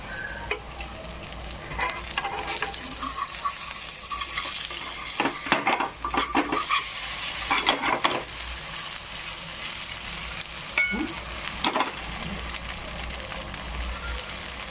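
Goat brain frying in oil with grated garlic, a steady close sizzle running throughout, broken by scattered scrapes and clicks of a utensil against the pan as it is stirred and turned.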